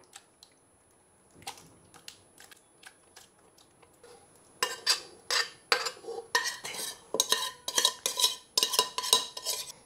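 Chicken korma pieces and masala being spread around a pot while assembling a chicken dum biryani, heard as a run of close metal spoon scrapes and clinks, sparse at first and then rapid and steady.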